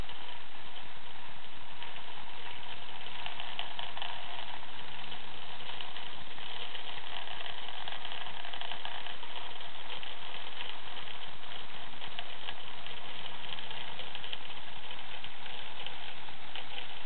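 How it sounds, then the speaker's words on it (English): Spinning and pumping magnets in a magnetic field oscillation setup make a steady, dense rattling clatter with a rapid clip-clop-like patter, continuous and fairly loud for the whole stretch, with no talking. "Some of these magnets are spinning, some are pumping, and some of them do both."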